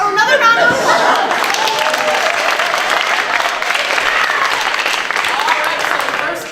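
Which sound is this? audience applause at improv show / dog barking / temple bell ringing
audience applause at improv show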